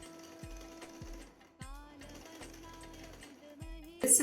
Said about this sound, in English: I need to use my machine